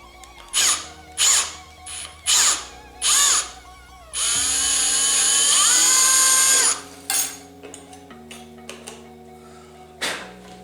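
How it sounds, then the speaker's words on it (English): A 5mm drill bores out pinball playfield posts in several short bursts, then one longer sustained whine, close and loud with brief pauses between. "they all have to be drilled out with a 5mm drill"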